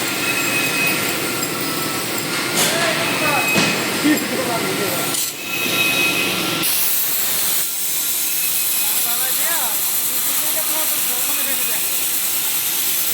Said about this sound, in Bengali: দেখাইতেছে আজকে কিভাবে অ্যালুমিনিয়াম কাটে